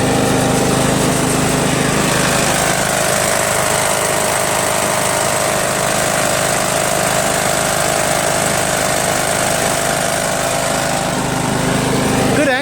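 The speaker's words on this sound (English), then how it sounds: "These Kohler Commands are good engines." A Kohler Command engine on a Scotts Murray SV15S hydrostatic lawn tractor runs steadily, a loud, close, continuous mechanical drone with no pauses.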